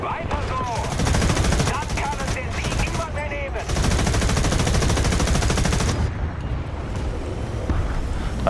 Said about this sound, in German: das ist jetzt die Nachladerate von der 20 mm Kanone